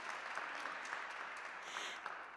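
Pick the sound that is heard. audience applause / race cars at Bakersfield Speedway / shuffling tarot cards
audience applause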